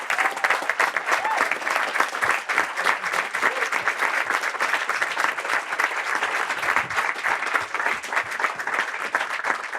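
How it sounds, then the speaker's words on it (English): A conference audience gives the technical crew a sustained round of applause, dense even clapping from many hands filling the room steadily throughout. "I want to give them a round of applause."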